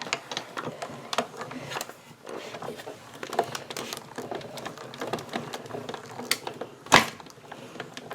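A craft cutting machine cuts out paper pieces for a scarf, earmuffs and hat, producing close, irregular mechanical ticks, whirs and rustles with a sharper clack near the end; no talk.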